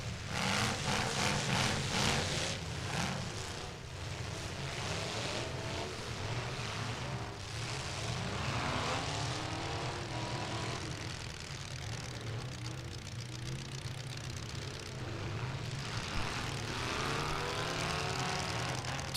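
A street stock fullsize race car with a 496 engine hums steadily at a dirt track race, a continuous engine drone from a distance with other cars running across the track.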